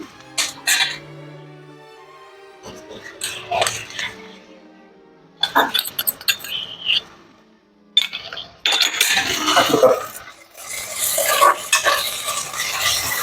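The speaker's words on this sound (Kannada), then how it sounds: "ಈರುಳ್ಳಿ ಚೆನ್ನಾಗಿ ಫ್ರೈ ಆಗಿದೆ ಹಸಿಮೆಣಸಿನ್ಕಾಯಿ ಫ್ರೈ ಆಗಿದೆ ಈಗ ಶುಂಠಿ ಬೆಳ್ಳುಳ್ಳಿ ಪೇಸ್ಟ್ ಹಾಕ್ತೀನಿ" Ginger garlic paste sizzles and fries in a pan with fried onions and green chillies for mutton curry, with repeated scraping and stirring of a metal spoon, clinks, and occasional talking.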